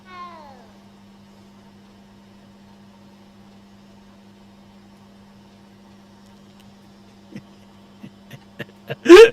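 A cat meows once at the start in a video game with a magic theme, a short falling cry over a steady low hum, followed later by quiet periods and a few sharp clicks and thumps.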